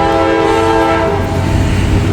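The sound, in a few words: train approaching and sounding its horn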